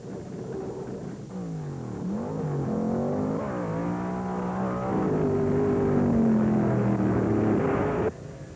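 Two wheelstanding drag race cars make a full run, loud engines roaring and shifting through rising and falling pitch sweeps, the sound holding strong throughout before cutting off abruptly near the end.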